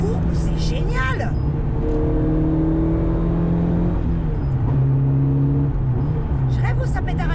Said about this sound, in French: Je rêve où ça pétarade un peu.